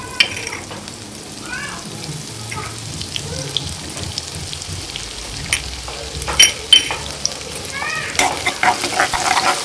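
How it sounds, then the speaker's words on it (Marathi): Cumin seeds and crushed garlic sizzling in hot oil, a continuous close crackling fry with occasional stirring clatter and spatters building toward the end. "तेल गरम झालं की जिरं आणि लसूण ठेचून घेतलेलं आहे ते टाकायचं आहे"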